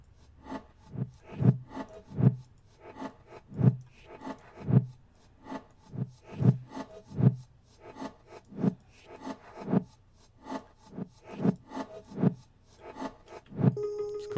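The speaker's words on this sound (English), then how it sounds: "it kind of has this like weird pumping effect again, but then it has it like this strange backwards drum quality" Drum hits run through reverse convolution reverb in Ableton, giving a pumping, backwards-swelling quality; a steady rhythm of scraping, rasping swells rises into each beat, loud and alone with no talk.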